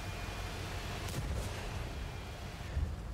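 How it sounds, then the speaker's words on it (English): Artillery fire during a morning match, dull low booms rumbling under a steady noisy background, with a couple of sharper bursts partway through. "Oh, artillery."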